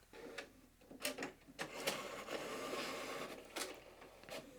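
A home printer prints a zine page nearby, with repeated mechanical clacks and whirring feed passes rising and falling in a steady working rhythm, heard alone.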